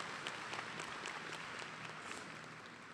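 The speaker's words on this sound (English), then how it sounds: "And the that deserves a round of applause," High school graduation crowd applauds, a faint, dense wash of distant clapping that holds steady for a few seconds with no voices on top.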